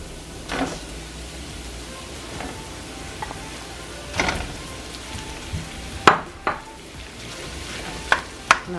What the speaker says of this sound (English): Now I'm gonna saute it until it's brown.